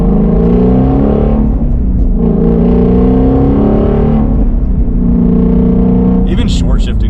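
Shelby Mustang GT500 V8 engine revving loud and close through short shifts near 4,500 RPM and blipped downshifts, a steady rumbling drone rising and falling in pitch under continuous talk.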